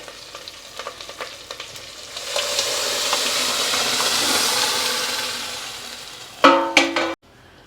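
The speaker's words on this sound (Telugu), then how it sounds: "ఇప్పుడు పప్పు దీంట్లో పోసేద్దాం" Cooked dal being poured into a pot, a soft splashing rush that swells and fades over several seconds, followed by a few sharp metallic clinks of a vessel near the end.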